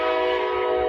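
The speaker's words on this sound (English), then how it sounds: "You can even hear the train better." A train horn sounds loudly and steadily over the low rumble of a passing train, a brief close blast with no voices.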